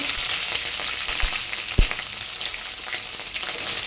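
Green chillies and curry leaves fry in hot oil for a Davangere-style mandakki usli, giving a steady close sizzle with one sharp pop near the middle and no voices.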